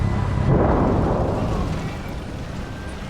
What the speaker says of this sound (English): And then the explosion happened.